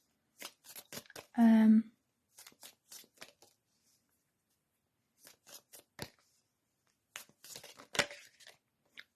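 Tarot cards shuffled close by in short riffling bursts between pauses, with soft talking at the start and a brief hum or vocal tone early on.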